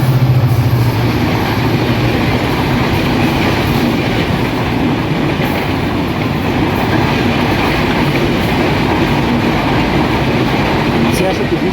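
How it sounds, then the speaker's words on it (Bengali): The 806 Down Silahati Express, hauled by a 6400-series locomotive, passes through Chatmohar railway station on line 2 without stopping, a loud close continuous rumble of wheels and carriages with a brief low horn-like tone at the start. "806 down Chilahati express Chatmohar railway স্টেশনে 2 নম্বর লাইন দিয়ে পাস করে চলে যাচ্ছে ঢাকা অভিমুখে"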